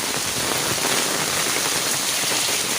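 Heavy storm rain pours down in Dadyal, Azad Kashmir, a dense, loud, unbroken hiss of drops hitting surfaces close by, steady throughout with no voices.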